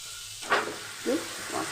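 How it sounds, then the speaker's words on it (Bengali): Rohu fish sizzles in a hot pan as it is flipped, a soft steady hiss broken by a sharper burst of spitting around the turn and two smaller flare-ups after. "একটা মাছে আমি উল্টা দিচ্ছি।"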